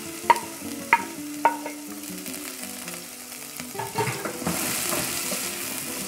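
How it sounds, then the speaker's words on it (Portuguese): Onion going into a pan with garlic already sautéing for a chayote and coconut milk dish: a few sharp clacks of utensil against pan open, then a steady sizzle builds and stays close, with scraping stirs throughout. "Agora vou estar colocando a cebola"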